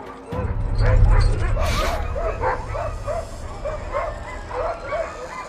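A pack of dogs near a polar bear barks and yips in quick repeated bursts, several voices overlapping close by, with a louder rumbling thump early on and a voice speaking underneath.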